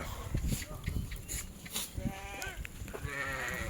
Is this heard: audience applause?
no